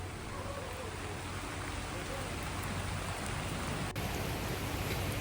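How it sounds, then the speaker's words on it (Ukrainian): Heavy rain on Madeira, a dense, steady roar of downpour hitting surfaces close by, unbroken throughout with a faint low rumble underneath. "Почався дуже сильний дощ."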